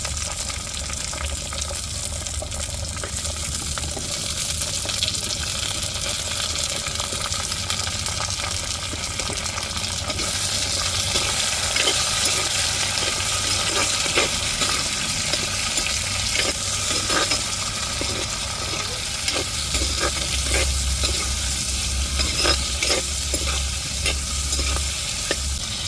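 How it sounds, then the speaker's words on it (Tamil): Tomato, chili and drumstick pieces stir-fry in a pan for a fish curry, giving a steady close sizzle with scraping stirs and clinks of a spoon throughout, no voices. "இப்போ தக்காளி, மிளகாய், முருங்கைக்காய் சேர்த்துக்கிடுவோம்."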